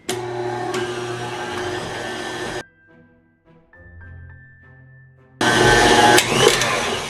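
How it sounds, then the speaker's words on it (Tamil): An electric mixer beats cake batter with eggs at medium speed, a loud steady motor whir that cuts out for a few seconds of quiet clinking before roaring back on. "இப்போ இதையும் வந்து ஒரு 45 செகண்ட்ஸ் மீடியம் ஸ்பீட்லேயே பீட் பண்ணுவோம்."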